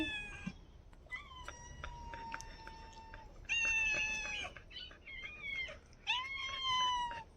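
Cats meowing close by, several drawn-out, tonal meows in a row, some overlapping and rising in pitch, with quieter gaps of room noise between the calls.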